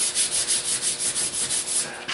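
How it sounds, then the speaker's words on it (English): Steady back-and-forth block sanding on a car quarter panel, near the deck lid, with about ten even rhythmic strokes of abrasive rubbing, close and continuous with no talk. "I'm sanding into the quarter panel a little bit here"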